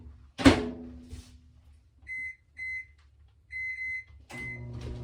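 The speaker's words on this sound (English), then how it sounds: "I'm going to heat this water up for about a minute in the microwave" A microwave oven being set to heat a cup of water: a solid thump of the door closing, then a run of short electronic keypad beeps, and the low hum of the oven starting at the end.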